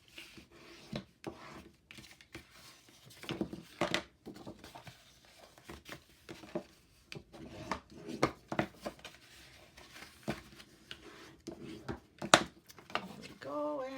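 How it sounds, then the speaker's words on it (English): Paper is folded along score lines and burnished for a 6 1/2 x 8 1/2 fall folio, heard as faint, close rubbing, crinkling and soft taps in irregular bursts, with quiet gaps between them. "let's fold and burnish those lines, those score lines"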